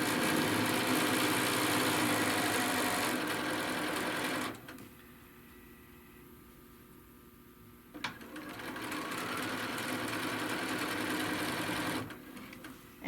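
A sewing machine stitches around a bag in a steady, loud, continuous whir, stops briefly partway through, then runs again at the same even pace.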